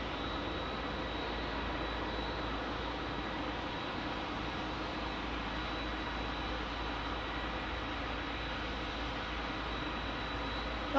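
Jet airliner using reverse-thrust powerback at San Diego airport, a steady, loud, unbroken engine roar lasting about eleven seconds with no talking.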